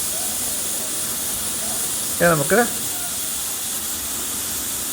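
A pressure cooker whistle blows in two quick sharp shrieks amid a steady steam hiss while pumpkin, yam and plantain erissery cooks, and a voice speaks briefly.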